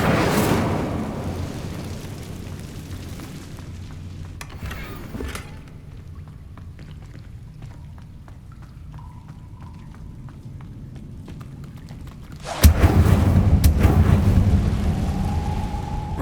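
An Incendio fire spell in Hogwarts Legacy lands late as a sudden loud eruption of fiery roar after a low, fading rumble, then keeps burning steadily.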